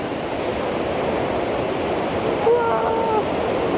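Huka Falls roars loudly and steadily close by, a dense, continuous rush of falling water with no break.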